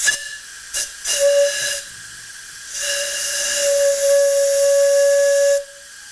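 Air blown across the mouth of a test tube makes a steady hollow whistle, a short tone followed by a long sustained one, loud and close with breathy hiss around it.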